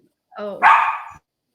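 A dog gives a single short bark, close and loud, opening with a brief whine before the sharp burst.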